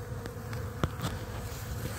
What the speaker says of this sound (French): je viens de voir un autre frelon se servir